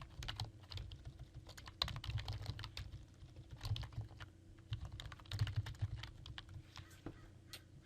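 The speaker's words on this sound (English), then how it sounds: "You can type in whichever keywords you want." Typing on a computer keyboard, a steady run of quick, close key clicks in irregular bursts over a low background hum, with no voices.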